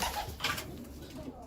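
Young racing homer pigeons coo softly in a loft, low and faint under a man's speech and background noise.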